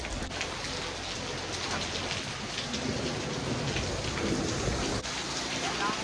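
Steady, heavy rain pours down across a backyard garden in a dense, continuous hiss, with faint distant thunder underneath and no voices.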